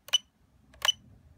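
Two quick, high-pitched electronic beeps sound close and crisp from the buzzer on a Geniuser 160mm FPV racing drone with an F4 flight controller, separated by a short pause over faint background hum.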